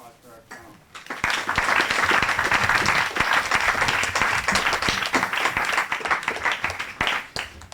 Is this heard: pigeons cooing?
no